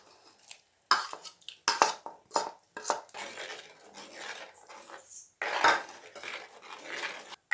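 A spoon scrapes and clinks around inside a cooking pot of fish curry in irregular stirring strokes, close up, with brief pauses between them.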